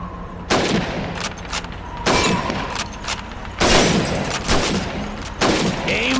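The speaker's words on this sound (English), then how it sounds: "Step up to the shooting range. Ready, comrades? Shoot those bottles and plates." Rifle shots at bottles and plates on a shooting range in the video game Call of Duty 2, four loud, close single cracks spaced about a second or two apart, each with a brief ringing tail.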